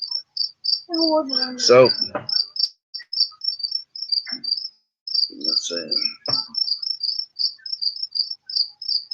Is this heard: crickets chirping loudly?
yes